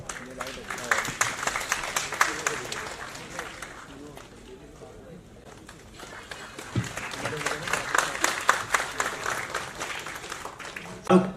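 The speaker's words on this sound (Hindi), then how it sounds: "जोरदार तालियां।" A crowd at a laptop distribution ceremony breaks into loud, dense applause that dips in the middle and then swells again, with many hands clapping close by.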